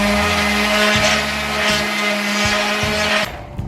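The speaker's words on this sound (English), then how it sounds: "Got us an old DA sander with 220 grit sandpaper on it." An old dual-action sander fitted with 220 grit sandpaper runs over a burnt wood board, a loud close steady whirring hum with rhythmic pulsing dips as it works across the surface, then stops near the end.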